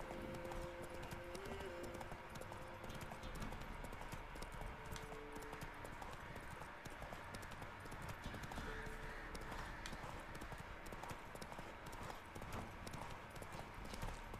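Rhythmic clip-clop of horse hooves on a ride in The Witcher 3: Wild Hunt, a continuous galloping beat with an occasional whinny, mixed with faint game ambience.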